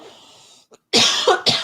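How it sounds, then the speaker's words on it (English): A man coughs hard, a faint breath and a short hack followed by two loud, harsh coughing bursts in quick succession, close and clear. "I'm going to cough and hack my way through the night tonight."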